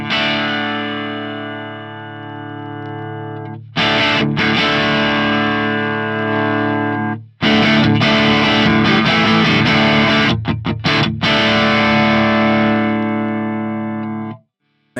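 An electric guitar plays sustained, overdriven chords through an Axe-Fx III modeled Xotic AC Booster pedal, thick and distorted, in three long strums that ring out and get louder.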